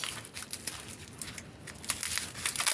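A parcel is opened by hand, its paper wrapping crinkling and rustling in irregular close bursts that grow busier toward the end.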